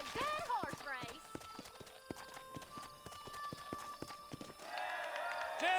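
Horses gallop in a race in the video game Red Dead Redemption, rapid clip-clopping hoofbeats under people talking, with a whinny and layered game sounds.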